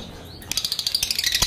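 Two blue opaline pet birds give a quick run of bright, rapid chirps up close. The calls come in a short, repeating flurry with no voices.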